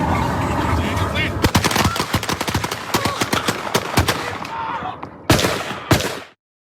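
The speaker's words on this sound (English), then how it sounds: "You heard the 2 gunshots at the end of all of those shots." Gunfire from a police shooting in which nine officers fired on a man: a rapid, loud volley of many overlapping shots, followed by two separate final gunshots before the sound cuts to silence.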